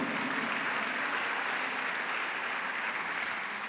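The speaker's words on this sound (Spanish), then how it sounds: "Dele un fuerte aplauso al Señor" A church congregation gives a strong round of applause, a steady, dense clapping that fills the whole moment without pause.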